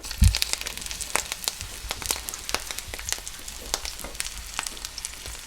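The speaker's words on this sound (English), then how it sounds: "So we're just gonna place them cut side down in this hot oil." Brussels sprouts sizzle cut side down in hot oil, a steady close crackle of frying with scattered sharp pops and spatters after a brief thump as they go into the pan.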